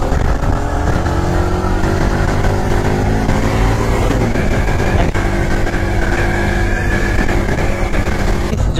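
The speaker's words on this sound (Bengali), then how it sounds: "এই এক্সস্টের সাউন্ড প্লাস ইঞ্জিনের সাউন্ড দুইটা মিক্সড হয়ে একটা কি যে মানে ফিল হয়।" Honda CBR 150R motorcycle in matt black, exhaust note mixed with engine sound, a continuous loud close drone with steady revs and slight pitch shifts, no talk.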